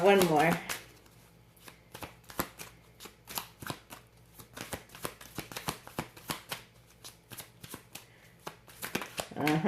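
Tarot cards shuffled by hand in quick irregular riffles and taps, close and fairly soft, with brief bursts of speech at the start and end.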